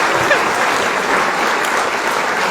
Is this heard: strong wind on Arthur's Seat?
no